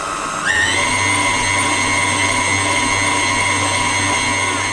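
A blender whirs steadily as it mixes corn bread batter with chopped spring onions, greens included, spinning up with a sharp rise in pitch and then holding a loud, even motor whine with no talking.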